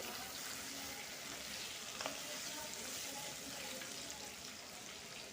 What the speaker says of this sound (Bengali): এখন ঢাকনা খুলে একটু নাড়াচাড়া করে নিই